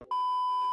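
A smartphone stopwatch gives one steady electronic beep as it is stopped, sustained to the end of the moment, loud and close.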